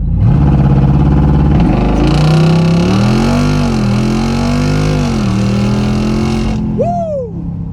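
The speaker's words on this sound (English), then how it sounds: "So I'm gonna do a little launch right here, launch with a little less RPM than usual and see if that helps." A custom-tuned Jeep Wrangler 392 launches from a standstill at reduced RPM. The V8 roars loud and close, climbing through the revs in a long pull before backing off, with a brief whine at the end.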